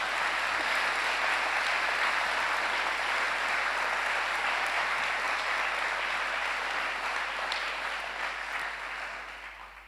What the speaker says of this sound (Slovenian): Prosim za aplavz.